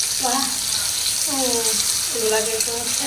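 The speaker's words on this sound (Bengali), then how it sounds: "ভালো করে নাড়াচাড়া করে দিতে হবে, নাহলে নিচে লেগে যাবে।" Chicken and kakrol (spiny gourd) being stirred and fried in a pan, a close, continuous sizzle with stirring scrapes, and a voice talking throughout.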